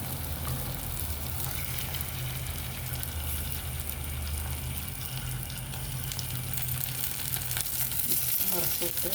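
Pieces of pepper-seasoned sardine sizzle steadily in a hot pan, a continuous loud frying crackle with no talking over it.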